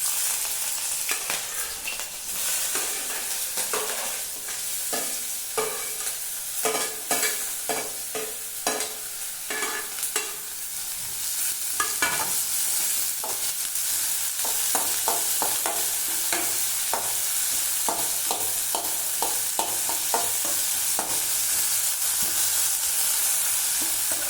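Onions fry in hot oil while a utensil stirs them, giving a steady sizzle broken by repeated scraping clicks that run throughout at close range, with no speech.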